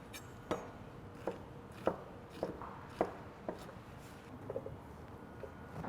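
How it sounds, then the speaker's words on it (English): A knife chops an onion on a cutting board in a steady rhythm of about a dozen crisp, faint strokes, with quiet room tone between them. "Our onion, we're just gonna chop up and throw in the blender."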